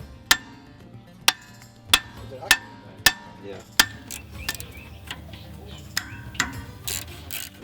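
Hand tools work on a rally vehicle's brake drums during a roadside repair, sharp metallic clacks and ratchet clicks landing about once a second, with softer rattling and clinking of parts between them.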